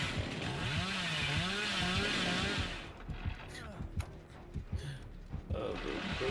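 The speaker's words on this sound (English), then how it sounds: "Look at me, I'm a big angry chainsaw man." A chainsaw revs in the Dead by Daylight horror game with a loud, sustained engine whine that rises and falls for about three seconds. It then cuts out, leaving quieter clatter and scattered thumps.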